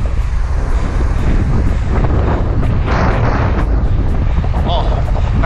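Loud wind rushes and buffets past the microphone while riding a 29-inch bicycle at high speed, a constant heavy roar with brief spoken bursts mixed in.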